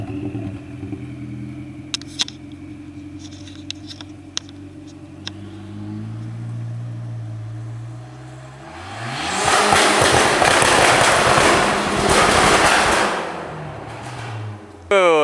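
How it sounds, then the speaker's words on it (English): An old Dodge Neon idles with a steady engine hum, then launches hard in first gear with a loud, roaring surge that holds for several seconds before easing off. "we're about to do a tug in the old Neon. That first gear pop"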